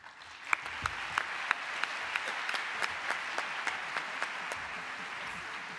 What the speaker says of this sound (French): Encore une fois, on les applaudit.